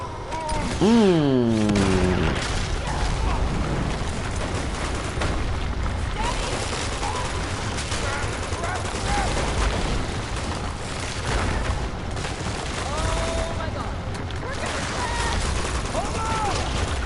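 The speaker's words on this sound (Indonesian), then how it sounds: "Oh, entah siapa yang nembak." Gunfire from Uncharted 2: Among Thieves keeps up in dense, overlapping bursts for the whole stretch, loud and steady, with a voice talking over it near the start.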